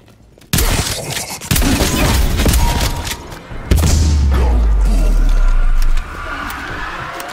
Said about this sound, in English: This is a good shotgun.